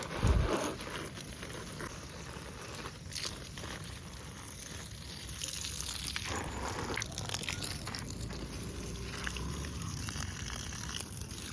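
Water sprays steadily over garden plants from a hose during watering, a soft continuous hiss with faint patter that runs the whole time at low volume.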